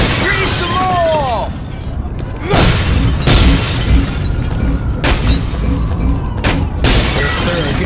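Glass shatters loudly and repeatedly as loot is smashed in The Warriors during a blackout, sharp bursts of breaking glass over a busy, noisy scene.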